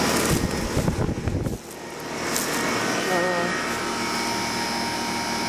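A 1989 Rheem three-ton straight-cool air conditioner runs with a loud, steady motor and fan roar and a faint tonal hum, after a brief burst of rustling and handling noise.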